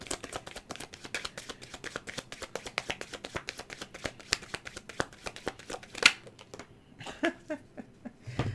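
Tarot cards being shuffled by hand, a fast run of crisp, rhythmic riffling flicks close to the microphone, then a few sharper slaps and taps as cards are laid down, quiet and with no talking.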